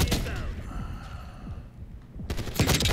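XMG light machine gun firing in Black Ops 6, rapid automatic bursts at the start and again at the end, with a voice talking in the background.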